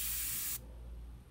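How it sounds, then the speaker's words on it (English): An aerosol spray hisses in one steady, close burst over an India ink painting on Bristol board, then cuts off abruptly, leaving a quiet room. "Spray over that highlight a little bit right here, just a little bit"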